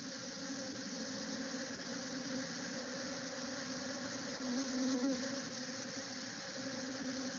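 Honey bees feeding on a protein supplement set out near the ground at an apiary, giving a steady, dense buzzing drone that holds through the whole stretch with a slight swell near the end.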